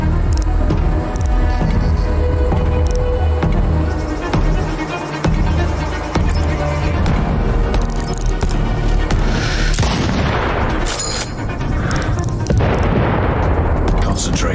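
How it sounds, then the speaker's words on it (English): Explosions boom out in the video game Sniper Ghost Warrior Contracts 2, loud deep blasts and bursts layered over a dense game soundscape with radio-style voices talking throughout. "Explosion heard, location unclear, awaiting orders."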